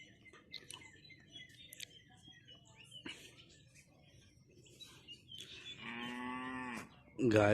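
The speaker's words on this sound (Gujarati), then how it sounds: "ગાયો બોલાવે છે." Cows on a farm moo close by, a long low call followed by a louder one at the end, after quiet rural ambience with scattered bird chirps and faint background voices.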